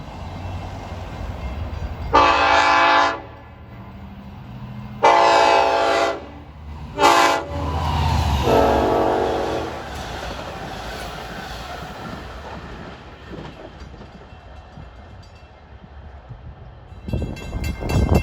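Long Island Rail Road train 662, running from Hunters Point Avenue to Port Jefferson, arrives at New Hyde Park station with several loud, close horn blasts in a broken pattern over a low rumble that fades afterward.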